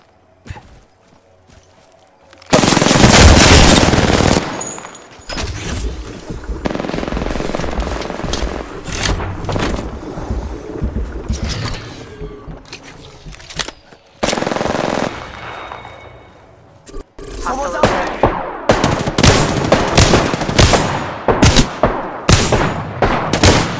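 Automatic weapon fire from a first-person shooter, Apex Legends, running on a laptop at low settings: loud sustained bursts of rapid gunshots, a brief lull, then more dense volleys with sharp individual shots near the end.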